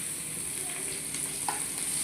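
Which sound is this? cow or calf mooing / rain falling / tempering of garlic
tempering of garlic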